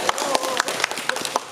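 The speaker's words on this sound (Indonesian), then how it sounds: "Tepuk tangan sekali lagi." A studio audience at a Catholic scripture talk show claps in a brief, fairly steady rhythm of sharp, separate hits, moderately loud and close.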